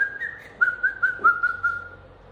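A person whistles a short tune, a string of clear bright notes in quick succession, close and alone.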